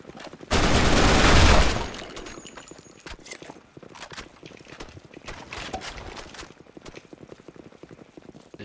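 A short loud burst of gunfire in the first-person shooter Blackshot, followed by quieter, rapid tapped shots and clicking in a steady stuttering rhythm over background game noise.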